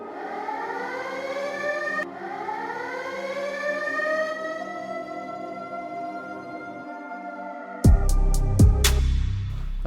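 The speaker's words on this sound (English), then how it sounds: "A siren." A siren sound effect layered into the drop of a dark trap-style beat, with rising wailing sweeps that repeat before a burst of sharp percussive hits near the end.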